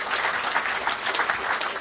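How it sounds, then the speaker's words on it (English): Sustained audience applause fills a hotel ceremony hall, steady and dense clapping from a crowd throughout, fairly loud with no voices over it. "Let us give them all a tremendous round of applause"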